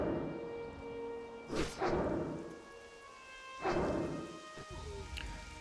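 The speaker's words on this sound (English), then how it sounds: "And it's raining now." Rain falling in the video game World of Warcraft, a steady patter with soft rumbling swells and a couple of louder whooshing bursts, no talking.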